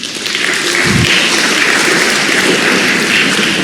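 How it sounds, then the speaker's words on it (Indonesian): Applause from a university lecture audience fills the clip, a steady dense wash of many hands clapping at once, loud and continuous from start to finish without a break. "Jadi kita tepuk tangan buat ITB."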